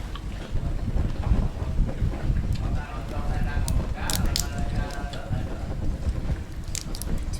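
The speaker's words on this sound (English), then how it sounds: "Too windy." Strong wind buffets the microphone outdoors at a floating market on Hon Son Island, Vietnam, with loud, continuous low rumbling gusts and faint muffled voices underneath.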